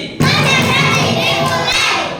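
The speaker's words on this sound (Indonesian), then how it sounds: "Tepuk konsentrasi." A third-grade class in an Indonesian-language lesson launches into its concentration clap routine, children chanting loudly in unison with rhythmic thumping claps, close and energetic after a sharp start.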